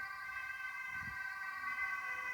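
A wailing ambulance siren sounds steadily at moderate distance over low traffic rumble, its tones holding level without fading away.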